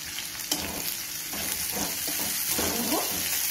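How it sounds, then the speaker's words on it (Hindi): Chopped onions sizzle and fry in a pan with garlic and six green chillies for veg Manchurian gravy, a steady close crackle with occasional stirring scrapes. "इनको थोड़ा ब्राउन ब्राउन कर लेंगे ये ओनियन"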